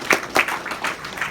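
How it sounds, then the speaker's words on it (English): A short round of applause at an event, a few distinct loud claps standing out over a thinner spatter of hands, brief and close. "I want to give them a round of applause"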